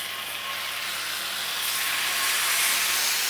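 Lion's mane mushroom pieces sizzling in a hot oiled cast iron skillet with a little salt, a steady broadband hiss that swells slightly louder toward the end, with no talking.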